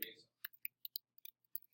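Computer keyboard typing in quick, irregular clicks and taps, close and fairly quiet, following a brief burst of voice at the start.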